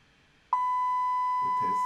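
A continuity tester on a lighting circuit gives a sudden, steady high-pitched tone that holds unbroken to the end, while someone speaks briefly underneath.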